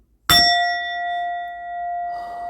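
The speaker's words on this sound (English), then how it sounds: "let me ring the bell." Bell struck once, a sharp metallic ding with a long clear ringing tone that sustains and slowly wavers, close and alone.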